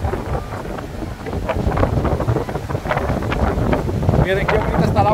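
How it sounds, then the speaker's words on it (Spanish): Strong wind buffets the microphone on Clearwater Beach, a steady rumbling roar with gusts that swell toward the end, and a voice speaks faintly underneath. "Está haciendo mucho aire ahora."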